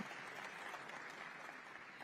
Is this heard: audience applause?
yes